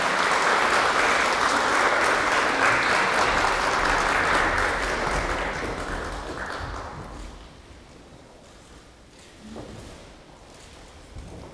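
Applause for award-winning staff fills a university hall at an 86th anniversary ceremony, a dense crowd clapping loudly at first and then thinning and fading to scattered claps.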